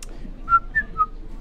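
A person whistles three short, clear notes close up, each separated by a brief pause, with no talking.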